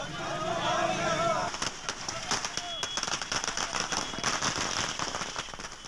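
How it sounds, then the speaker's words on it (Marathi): Firecrackers burst outside an office as party workers celebrate, a rapid, loud string of sharp cracks and pops that follows a brief stretch of talking and continues densely to the end. "संजय शिरसाट यांच्या कार्यकर्त्यांनी कार्यालयाबाहेर फटाके फोडले"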